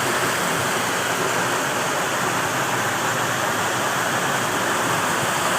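Water rushing over the dam on the Afia river in Gunungsitoli Utara, a constant loud broadband roar that stays even and close throughout, with no speech.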